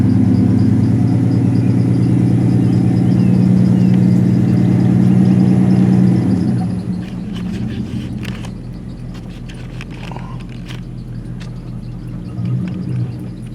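A vehicle engine runs loud and steady with a deep harmonic rumble as it drives around a garden, then drops to a quieter, rougher idle-like drone with scattered clicks and rattles.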